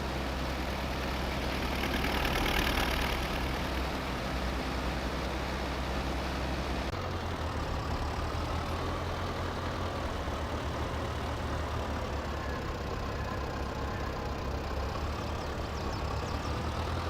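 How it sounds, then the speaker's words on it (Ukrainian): An MTZ tractor driving in Farming Simulator 22 gives a steady, droning engine rumble throughout, with a shift in tone partway through and no pauses. "Ось і наш МТЗ їде з поля міняти дискову борону на сівалку"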